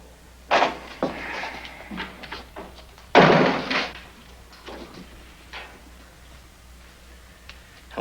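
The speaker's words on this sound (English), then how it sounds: "Shut the door." A door slams shut with a loud, sharp thump in the middle of a Western drama scene, preceded by a few quieter knocks and bumps and followed by faint movement in a quiet room.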